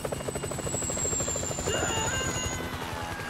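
A helicopter in the video game GTA V thrums with a rapid, steady rotor chop and a high whine overhead, continuous and fairly loud throughout.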